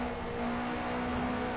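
Race-car engines, a VW Golf and a Subaru WRX, roar with a loud steady tone, as heard from inside one moving car, with no talk.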